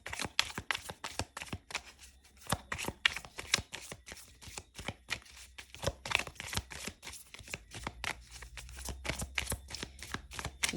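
Tarot cards are handled, shuffled and drawn in a quiet room, making rapid, close, irregular riffling and snapping bursts of papery clicks across the whole stretch.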